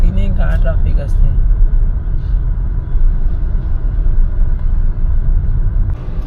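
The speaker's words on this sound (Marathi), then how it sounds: "किती ट्रॅफिक आहे बघा" Road traffic near Nesco in Mumbai, with a metro line overhead: a continuous low engine rumble from cars and buses fills the whole stretch, with brief higher tones near the start and a passing swell near the end.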